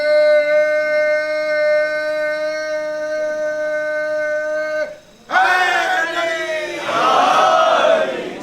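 A crowd at a religious poetry celebration in an imambargah in Jabalpur shouts slogans in unison, loud and roaring, bursting in after a sustained held tone and a brief pause, then swelling into a second wave of massed voices.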